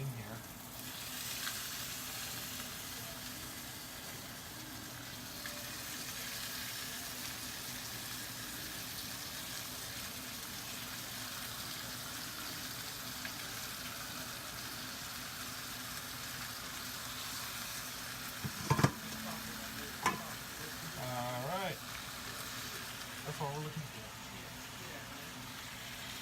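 Onions sear in a pan while beef brisket and fajitas are being cooked, producing a steady, soft sizzle throughout, with a few clunks and brief voices near the end.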